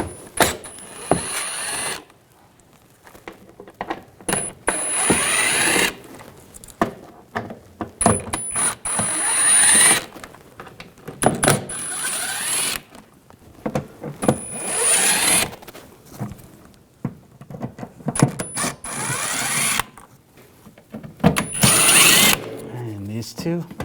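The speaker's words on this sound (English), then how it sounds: "Using a T15 socket, we're going to take these screws out." A power tool fitted with a T15 socket drives screws out on a 2014-2018 GMC Sierra 5.3L V8 during a vacuum pump replacement, in repeated loud whirring bursts separated by short pauses.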